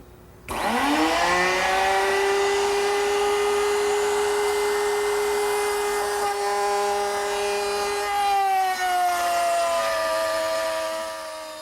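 A wood router spins up to a loud, steady high-pitched whine while cutting a centered groove at half depth in a wooden pantry table part; the pitch dips slightly as the bit bites in, then it runs on.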